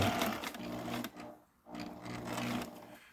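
A sewing machine stitches cabin window covers in steady mechanical bursts, running loud and close, pausing briefly once as the fabric is repositioned, then resuming its rapid whirring chatter.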